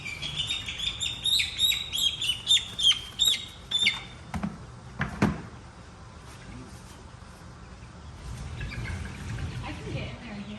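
Young chicks about four weeks old, including leghorns, chirp in a rapid run of high peeps while being moved from a brooder into a coop during a thunderstorm, followed by a couple of thumps and softer rustling, with people talking nearby.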